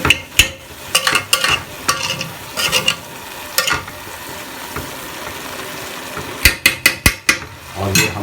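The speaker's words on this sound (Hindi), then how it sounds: "ये देखिए इसको अच्छी तरह आप मिक्स कर दीजिए।" A spoon stirs browned gur wale chawal, rice cooked with jaggery, in a pot, scraping and knocking against the metal in irregular strokes over a faint sizzle, near and fairly loud.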